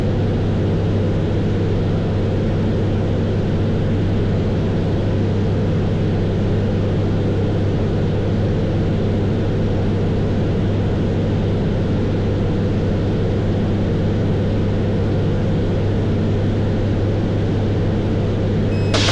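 A Slingsby T67M260 light aircraft cruises at about 100 knots, its piston engine droning steadily and loudly with a deep, constant hum that holds without a break.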